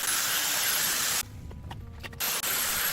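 A pressure washer blasts water onto an old motorbike frame to strip it, a loud, close, steady hiss that cuts out briefly and then resumes.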